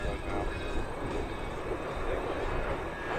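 A steady loud roar of jet aircraft passing overhead at an air show, including a MiG-17F, sustained and rumbling throughout with no pauses.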